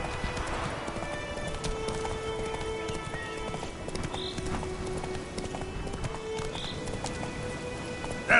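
Roach, the horse in the video game Witcher 3, gallops with a steady, fast clip-clop of hooves over a continuous ambient game soundscape, moderately loud and without speech.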